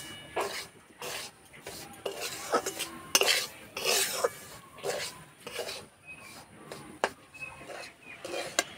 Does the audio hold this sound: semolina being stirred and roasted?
yes